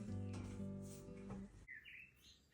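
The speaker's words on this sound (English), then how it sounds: "Listen to those birds singing." Birds chirp and sing outdoors near a countryside cottage in England, short bright calls rising after a voice-like harmonic tone fades, fairly close and clear.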